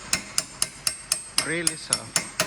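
About ten light, evenly spaced taps of a small hammer on a Mercury Milan CV axle shaft, close by, with a brief ringing metallic tone in the middle.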